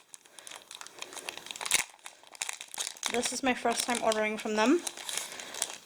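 Plastic packaging of Etsy planner kits crinkles and rustles in close, irregular bursts while someone talks over it.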